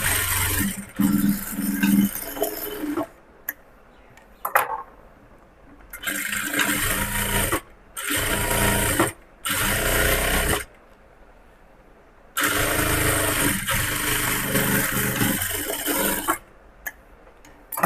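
A sewing machine stitches a cross-cut blouse seam in repeated whirring bursts of a few seconds each, separated by short pauses.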